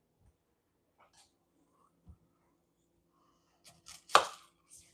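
A small onion being cut on a cutting board, with a few soft knife taps spread out, then a sharper cluster of chops near the end, close and fairly quiet.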